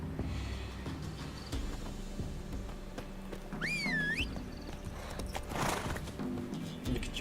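Roach, Geralt's horse in The Witcher 3, trots with steady clip-clop hoofbeats, breaking into a clear rising-and-falling whinny midway and then a breathy snort, all close and moderately quiet.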